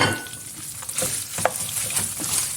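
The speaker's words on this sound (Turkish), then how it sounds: "Ciğerlerin üzerine ilk olarak soğanları ilave ediyorum" Onions and liver sizzling and frying steadily in a hot pan, with a few soft scrapes from stirring.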